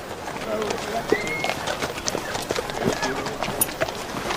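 A wild paint horse is ridden, with hooves clip-clopping in a busy irregular rhythm and scattered noise of movement, while voices speak faintly and occasionally at once.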